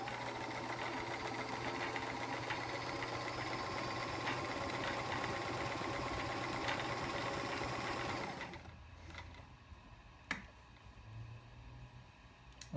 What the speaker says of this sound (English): These Kenmore machines are revered for their absolutely lovely zigzag stitch quality.